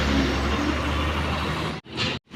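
A bus pulls away from a village bus stand in Murud, its engine rumbling loud and close, then the sound cuts off abruptly in two short gaps near the end.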